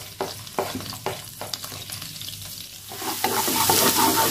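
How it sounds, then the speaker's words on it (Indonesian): Chopped garlic and shallots sautéed in hot oil: quick, close scraping strokes of a spatula at first, then a louder, steady sizzle swelling over the last second or so, with no speech. "Langsung aja aku akan tumis bawang putih."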